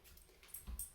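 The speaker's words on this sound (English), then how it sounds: "You should see my dog just for a second." A dog whimpers softly in a brief, faint burst, with a few thin high whines close by in an otherwise quiet room.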